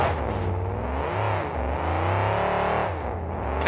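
Monster truck from the 2001 KORR Monsters event in Greensburg roars off the starting line, its engine loud and sustained with a deep rumbling revving throughout, heard alone without talk.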